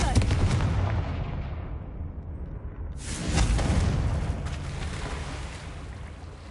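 A Confringo blasting spell in Hogwarts Legacy erupts in a loud, rumbling explosion followed by a second booming blast and a decaying rumble, with faint game voices underneath.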